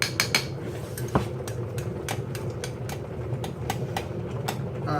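A drink being stirred in a cup, a spoon clinking against the sides in quick irregular taps over a low steady background hum, close and fairly faint.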